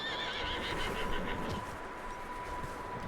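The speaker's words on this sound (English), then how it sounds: "Hoje tem um cavalo aqui dentro, né? Pelo barulho." A horse in Red Dead Redemption 2 gives a clear whinny that wavers and tails off. It sits over a quiet game background with a faint steady tone.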